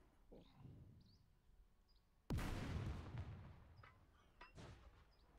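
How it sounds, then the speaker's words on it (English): Mortar fire in the video game Second Front lands as a single heavy blast, loud and booming with a rumbling tail, after a quieter stretch with faint chirps and a thump. "that's three mortars"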